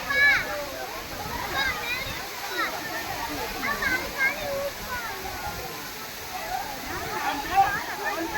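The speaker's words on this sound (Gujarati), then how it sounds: "ઉપરથી ધોધ પડી રહ્યો છે અને નીચે લોકો એની મોજ માણી રહ્યા છે" A rain-fed waterfall pours down a hillside at Patanvav with people enjoying it below, a steady broad rush of falling water running throughout while voices talk over it.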